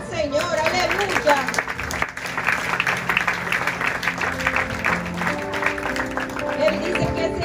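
A church congregation applauds loudly and continuously for several seconds, with music and a voice mixed under the steady clapping.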